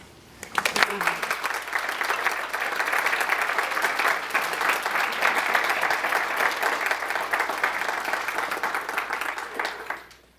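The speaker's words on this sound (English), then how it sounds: "I want you to give her an applause." An audience at a poetry reading breaks into sustained applause, a dense, even wash of clapping from a crowd that starts abruptly and holds steady for about nine seconds before cutting off.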